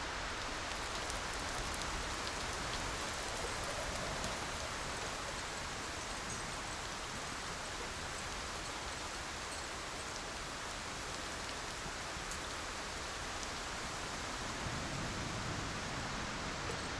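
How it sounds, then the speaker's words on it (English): Steady rain pours down in the video game Cairn, a dense, even hiss of drops spread across the whole span with no letup, close and enveloping without any voices. "Of course it was gonna rain."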